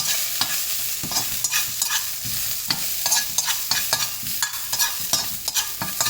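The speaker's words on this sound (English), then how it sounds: "just constantly stir these around so they don't get a chance to be stationary and burn on you" Beef stirred constantly in sauce as it fries in a pan: repeated close scrapes and clacks of the utensil in an uneven rhythm over a continuous sizzle, with no talking.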